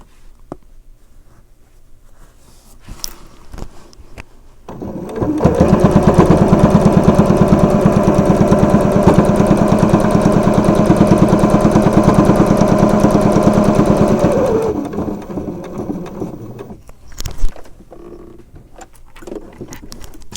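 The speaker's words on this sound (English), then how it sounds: "I'll take a couple stitches before I pull out that pin in the corner because I'm not sewing on top of it." A sewing machine runs steadily for about ten seconds as it stitches straight binding onto a quilt, a loud, even mechanical whir with a rapid needle rhythm. Quieter handling sounds come before and after the run.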